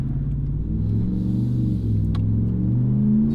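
RAM 1500 pickup truck with an aftermarket exhaust, its engine rumbling steadily with a deep, loud drone that swells slightly as it revs, heard up close and alone without talk.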